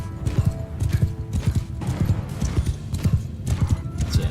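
Galloping cavalry horses in Mount and Blade Bannerlord pound out steady, rapid clip-clop hoofbeats throughout, loud and close, with occasional neighing mixed into the rhythm.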